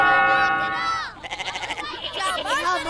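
Goats bleat in a cartoon scene of fighting billy goats, several wavering cries in quick succession, close and prominent, with speech mixed in.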